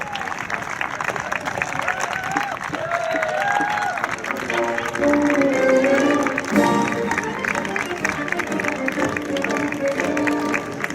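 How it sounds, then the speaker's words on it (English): Applause in the arena at the prize giving of an international one-star horse trials, with steady crowd clapping and some cheering throughout, a public address voice and musical tones over the top. "A big round of applause led by our winners, Caroline Harris and Billy Bumble."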